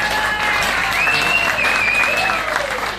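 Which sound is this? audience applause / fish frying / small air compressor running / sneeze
audience applause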